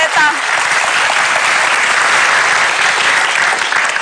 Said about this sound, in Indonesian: Tepuk tangan sekali lagi dong untuk Mama Aleta